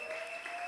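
Church congregation applauding the Lord during a sermon, a short burst of steady, dense clapping at moderate level with no voices over it.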